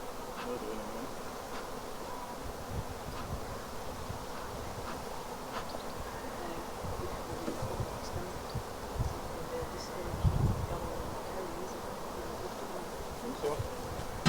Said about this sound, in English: there's literally maybe 10, 20 bees